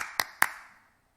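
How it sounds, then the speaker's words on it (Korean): Two hands clap twice in a church setting while praising during worship, with sharp, close claps about a quarter second apart, each ringing briefly in the room before the sound fades to silence, with no singing or talk. "찬양할 때 이렇게 박수 쳐요."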